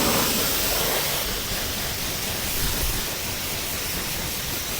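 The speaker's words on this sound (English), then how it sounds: "all we're going to do now is safely rinse off all that brake dirt and dust" Continuous broadband spray of water rinsing brake dust and dirt off a car wheel, a close, steady hiss and splash lasting the whole time without pauses.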